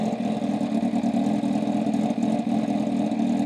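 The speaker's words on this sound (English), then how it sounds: "This bike right here is probably the loudest bike you're gonna be able to hear." A Kawasaki Ninja H2R motorcycle engine idles warm with a steady, throbbing mid-range rumble, close and continuous with slight rhythmic pulsing and no talking.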